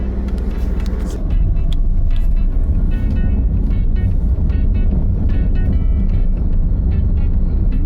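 A car driving at steady speed during a driving lesson, a loud continuous engine and road rumble close inside the cabin, with no talk.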